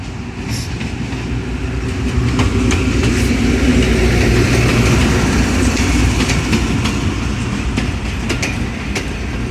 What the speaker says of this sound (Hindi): सिटी जंक्शन के प्लेटफार्म नंबर 2 पे अप्रोच बना रही है।